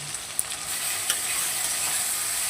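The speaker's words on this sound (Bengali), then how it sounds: "এবার সব শুদ্ধ ভালো করে কষাবো।" Spices with salt and turmeric sauté in oil in a pan, giving a steady close sizzle with a few light clicks from stirring, and no voices.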